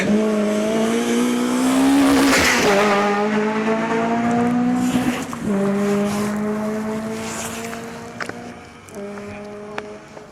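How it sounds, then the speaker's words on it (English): A Proton Satria rally car drives hard on a special stage of the East Riding Stages Rally, its engine loud and close, revving high and dropping through several gear changes with tyre noise as it passes. "Now 59, the little Proton Satria of Chris Woodcock and Heidi Woodcock."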